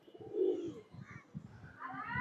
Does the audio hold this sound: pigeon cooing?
yes